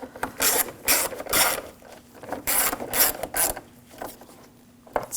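A ratchet tightens screws on the water pump of a 2007-2013 BMW 328i with the 3.0L inline-six, sounding as short bursts of quick metallic clicking separated by brief pauses, close up and with no speech.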